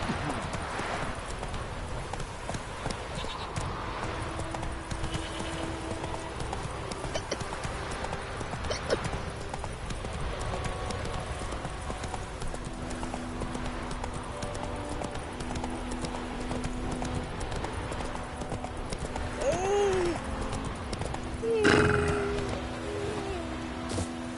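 Roach the horse gallops in a video game, steady hooves clip-clopping throughout over a dense ambient game soundscape, with a brief whinny-like call and other effects near the end.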